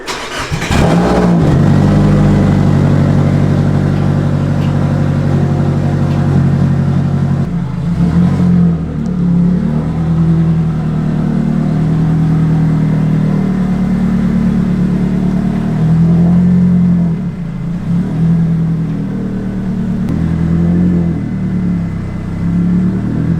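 A Nissan 240SX widebody engine starting up and revving, loud and close, a deep rumbling idle rising into several rev swells over about twenty seconds before settling back.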